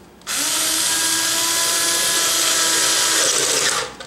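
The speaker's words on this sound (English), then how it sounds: "screwdriver." A power screwdriver drives a screw into an Alvin swing-arm combination lamp, a single sustained high whine starting abruptly, running steadily for about three and a half seconds, then winding down.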